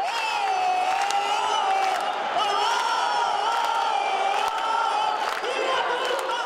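A big crowd of Verdão football fans sings and cheers at halftime, a steady sustained roar of many voices with chanting tones and occasional whoops.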